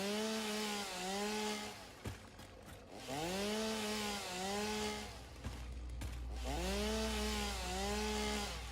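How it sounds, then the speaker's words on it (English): A chainsaw in the video game Satisfactory revs in three long sustained bursts, each rising then holding a buzzing whine, loud and close, separated by short pauses. "It's been a long time since I've used this chainsaw."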